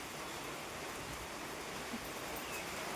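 The season's first rain falls outdoors as a steady, even hiss of drops that stays at a constant level, with no voices.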